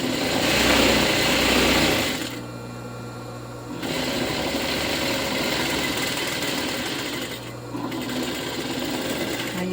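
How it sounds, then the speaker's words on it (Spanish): A sewing machine stitches fabric for a lined A-line skirt with 1 cm seams, running loudly in long continuous bursts separated by short pauses. "La dejamos correr súper ligerito por la máquina"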